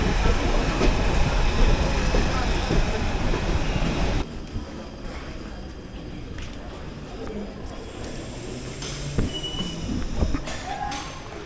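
A Mumbai local train running on the rails, with a steady loud rumble and rattle from the carriage that drops slightly partway through, alongside faint clicks and the occasional brief squeal.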